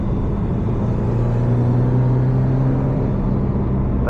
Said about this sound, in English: The turbo sounds really good too.